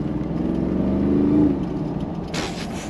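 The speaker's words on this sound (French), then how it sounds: "Et t'as ce bruit de V8." A V8 engine rumbles and revs up briefly, its low throaty tone swelling then easing back down, heard from nearby.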